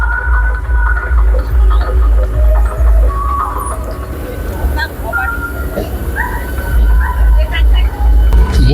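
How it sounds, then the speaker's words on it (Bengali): The 38916 Amta–Howrah local train pulls into Amta station in the late afternoon: a steady, heavy low rumble runs throughout with faint higher squeals and bird chirps, while someone talks over it. "এখন ট্রেন ঢুকছে আমতা স্টেশন অনেকটাই দেরি নিজে ট্রেন ঢুকলো"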